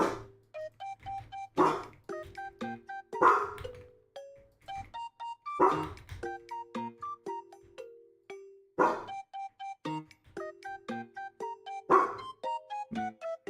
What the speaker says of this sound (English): Oh, my dog's barking.